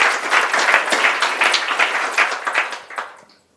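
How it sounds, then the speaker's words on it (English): A panel audience gives a quick round of applause for the panellists at a session on digitally enabled supply chains. Dense, steady clapping from many hands lasts about three seconds, then tapers off. "Quick round of applause for the panellists"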